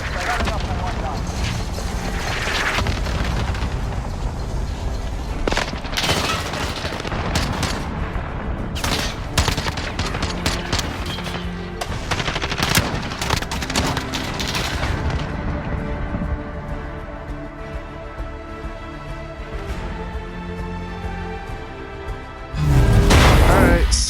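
M14 Starlight rifle fire in the video game Modern Warfare, with repeated loud close shots and bursts among other battle noise and mechanical clicks, ending in a sudden louder boom.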